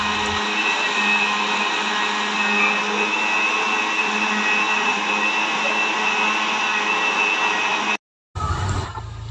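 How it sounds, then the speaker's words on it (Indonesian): A blender whirs steadily while blending moringa leaves into juice, a loud, constant high-pitched motor drone lasting about eight seconds before cutting off abruptly, followed by a brief lower rumble as it restarts or settles. "masukkan daun kelor ke dalam blender dan blender sampai mendapatkan sari"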